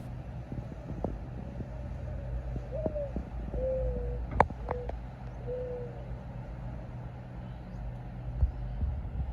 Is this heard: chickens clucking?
no